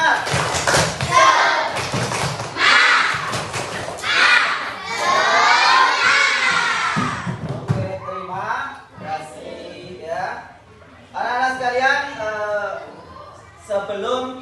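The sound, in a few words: schoolchildren doing the 'tepuk semangat' spirit clap chant again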